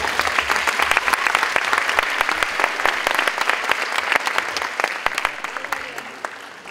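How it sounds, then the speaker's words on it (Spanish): Audience applause after a dance performance at a regional dance meeting: steady, full clapping from a crowd with distinct individual claps, holding level and easing slightly at the end. "brindemos un fuerte aplauso para su primera presentación"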